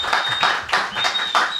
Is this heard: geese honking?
no